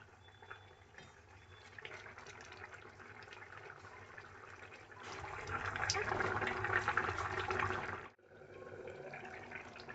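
Hilsa fish pieces go into a simmering mustard-style curry gravy with banana flower and eggplant, a wet sloshing pour that swells louder through the middle, cuts off briefly, then resumes under kitchen noise.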